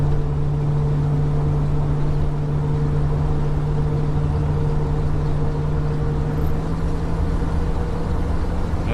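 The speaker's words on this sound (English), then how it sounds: "It's more like just put yourself down and the boat quietly just takes off." A motorboat engine runs steadily at low throttle on the water in the early morning, a continuous droning hum with no talk over it.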